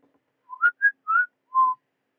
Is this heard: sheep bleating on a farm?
no